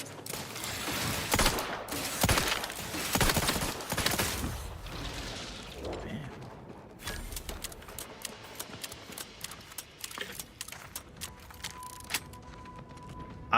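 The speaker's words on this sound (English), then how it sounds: "I kind of thought that maybe the explosion would do some extra damage." Explosive bursts and gunfire-like crackles in The Outer Worlds 2, a loud cluster of blasts early on followed by sparser clicks and mechanical rattles fading toward a quieter tail.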